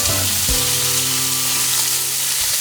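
Roast beef and a hot dog fry in a pan with a steady, loud broadband sizzle that holds throughout, and a low hum runs underneath.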